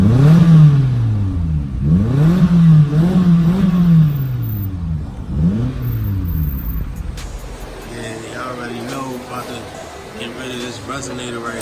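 A Mitsubishi Lancer with its muffler and resonator deleted revs repeatedly, the loud raspy engine rising and falling in several close blips, then settling into a rougher idle-like rumble.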